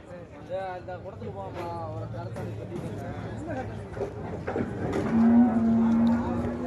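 Cattle bellow at a busy livestock market where animals are traded for meat, with one long, loud low moo standing out near the end over steady crowd chatter and people talking nearby.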